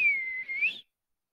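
A single clear whistle, held at a steady high pitch for under a second and bending slightly upward at the end, heard alone in a children's phonics lesson before silence.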